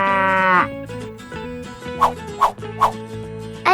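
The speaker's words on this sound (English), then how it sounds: "I give milk, I have horns, and I loudly moo." A cow gives one loud, drawn-out moo that falls in pitch, then cheerful background music with a few short bright notes continues.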